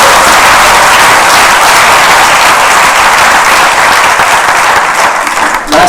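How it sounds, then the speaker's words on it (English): Loud, sustained clapping from an audience at a high school IB graduation ceremony, a continuous wash of applause that thins slightly toward the end. "A special round of applause for Gabriela,"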